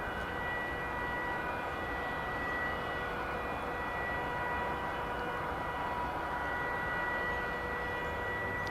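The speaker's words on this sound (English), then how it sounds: "That's an A319 flight 2429 coming in from Monterrey, Mexico." An Airbus A319 airliner comes in to land at DFW Airport, its jet engines making a constant broadband roar with a faint whine. The sound holds steady throughout and no voice is heard.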